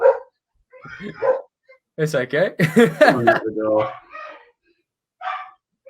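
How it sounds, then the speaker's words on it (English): A pet dog barks and yips in bursts while a person talks over it, the voices and barking overlapping through the middle before both settle into quieter speech. "my dog's about to go mad"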